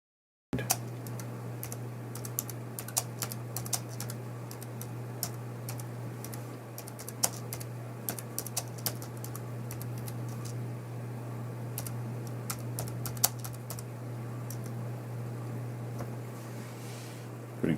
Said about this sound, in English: Typing with the keyboard and mouse.